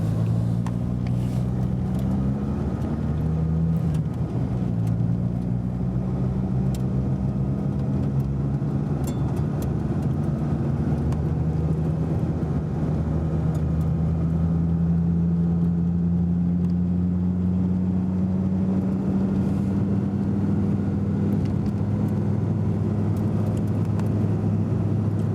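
A Dodge Viper GTS races a Ferrari 430 Scuderia with its sequential gearbox, giving a steady loud engine drone with rising pitch sweeps through gear changes, close and continuous with no talking.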